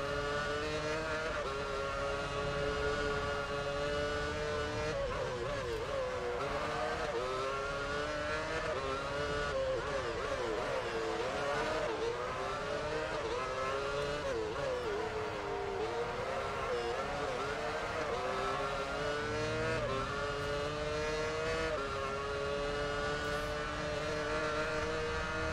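Formula 1 race car engines from the game F1 Championship Edition at Monaco, a continuous high whine rising and falling through gear changes as cars run close together, with a voice talking faintly over it.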